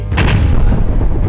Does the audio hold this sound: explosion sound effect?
yes